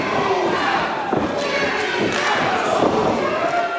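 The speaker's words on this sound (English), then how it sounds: "this crowd's going nuts already" A wrestling event crowd in Bryan roars and cheers continuously at close range, with scattered shouts and a few dull thuds from the ring cutting through the steady noise.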